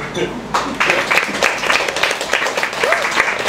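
An audience at an evening poetry reading bursts into warm, sustained applause, loud and close, with scattered cheers and a voice speaking over the clapping.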